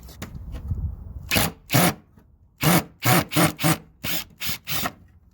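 A Ryobi impact driver in reverse backs old, slightly rusty screws out of boards, giving a series of short, loud rattling bursts in uneven rhythm, close by, with no talk.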